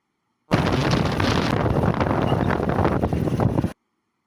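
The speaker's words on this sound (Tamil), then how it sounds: "பயங்கர காத்து சொல்லவே வேணாம்." Strong wind buffets the microphone at the Kuchanoor Saneeswaran temple, a loud, continuous roaring rumble lasting about three seconds before cutting off.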